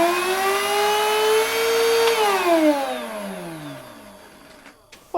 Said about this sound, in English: I had a bit of a hoover